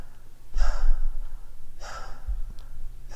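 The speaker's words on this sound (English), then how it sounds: "It already feels anxious because of the breathing." Breathing opens a song intro, two heavy, close breaths about a second and a half apart, loud over a low bass hum.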